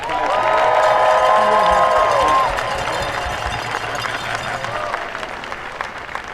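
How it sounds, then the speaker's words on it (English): A crowd at an outdoor 'No Kings' protest in western Washington applauds steadily, a dense wash of clapping, loudest at first and then settling into a lighter patter, with a voice briefly heard early on. "I'd ask everyone to join me in a quick round of applause"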